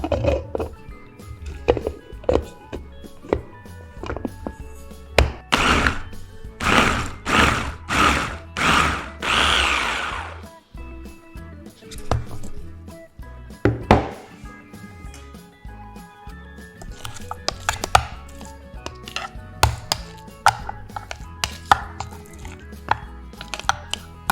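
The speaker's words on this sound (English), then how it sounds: "and also grind the boiled sweet potato and peas." A blender or grinder processes boiled sweet potato and peas for homemade cat food, producing a series of loud pulsing whirs and clattering bursts that start and stop repeatedly over about 24 seconds, with no talking.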